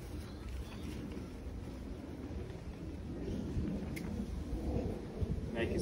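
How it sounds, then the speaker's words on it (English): Strong wind gusts outdoors around a beach tent, a steady low roar and rumble buffeting the microphone, building slightly toward the end with no talk. "as I said at the start, a pretty windy day."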